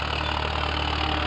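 A tractor engine, a 4WD Farmtrac 6050, idles with a steady low rumbling drone, near and constant throughout the short stretch, with no voices.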